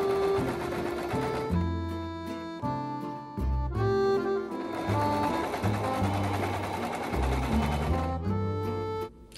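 A sewing machine hems a thrifted-fabric garment in rapid rattling bursts of stitching, stopping and restarting several times with brief pauses between runs, close and clear.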